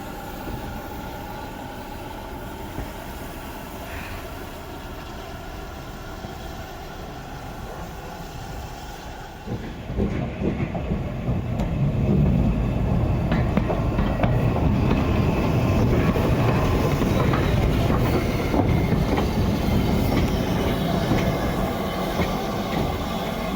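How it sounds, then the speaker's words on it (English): Stanier Mogul steam locomotive standing at Kidderminster station on the Severn Valley Railway at dusk, a steady rumbling hiss that swells louder and fuller partway through, with no talk. "we pull into Kidderminster to see the Stanier Mogul close up as she prepares to run around a"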